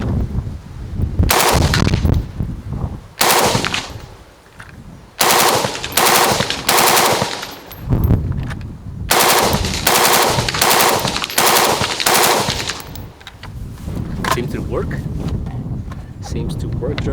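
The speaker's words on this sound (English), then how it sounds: "It's kind of odd shooting the LMG standing" A Steyr AUG A2 with a preban LMG barrel and FRT SSAUGv2 fires IMI M193 ammunition in loud outdoor bursts, several rapid strings of shots separated by short pauses, with wind noise between them.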